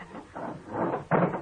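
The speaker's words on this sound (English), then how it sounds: "You hear what he's doing? Barricading the door." A door is barricaded in a radio drama scene: muffled, irregular scraping and thudding bumps build in strength, ending in a heavier knock as something is shoved against the door.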